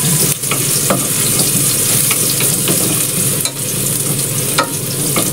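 Garlic sizzles loudly in a hot pan while cooking tinolang manok with kondol, a steady close frying hiss with occasional stirring scrapes throughout.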